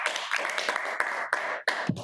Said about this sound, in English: We need to clap for this.